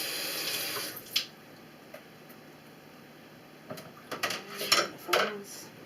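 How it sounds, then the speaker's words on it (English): Food rinsing under a running kitchen tap, a faint steady water hiss followed by splashing bursts and light clinks near the sink. "Give it a little rinse."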